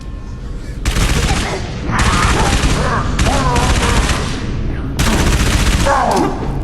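Gunfire from ODST weapons in the shooter Halo 3: ODST, loud rapid bursts of automatic fire that come in several long stretches with short breaks between them, and a voice speaking underneath.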